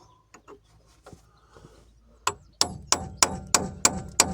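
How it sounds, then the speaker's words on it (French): Hammer blows on metal while replacing parts on a DS3 car: a few light taps, then six hard, ringing strikes in a steady rhythm, close and loud. "On a un vrai marteau."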